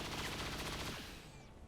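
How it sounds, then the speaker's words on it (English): Chain shot gunfire in the video game XCOM 2 comes as a rapid burst of repeated loud shots that fade into a trailing whoosh at the end. "Okay, we will chance the chain shot."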